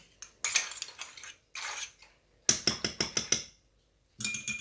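Butter being mixed into a hot mixture for a red fruit yule log, heard as bursts of quick metallic scraping and clinking of a utensil against a bowl, separated by short silences, no speech.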